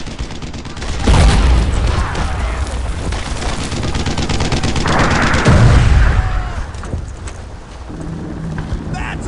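Heavy gunfire hammers armor in a World War II shooter: loud booming shots and rapid rattling bursts, with a large blast near the middle and rumbling echoes fading toward the end.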